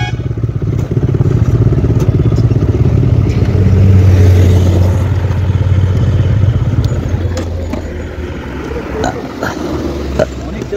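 Several motorcycles idle with a loud, steady rumble close by that swells in the middle and then eases off, with clattering clicks and people talking throughout.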